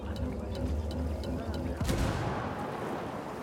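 A frag grenade in the Ghost Recon Wildlands shooter goes off with a single muffled boom partway through, over a constant rumbling game backdrop with faint distant pops, moderately loud.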